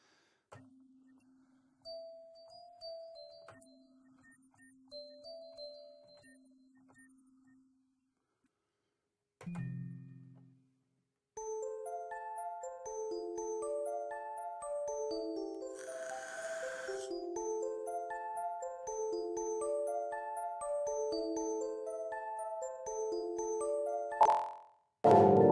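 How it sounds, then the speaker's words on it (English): Synth bell tones from the Octane rompler app on iOS chime in sparse single notes, then in a busy overlapping run of bright pitched strikes, clear and fairly loud, with no talk. "We got some lovely bell sounds."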